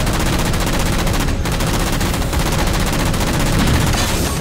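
Rapid game gunfire from Halo 4, dense and continuous bursts that resemble machine-gun fire, loud throughout with no break.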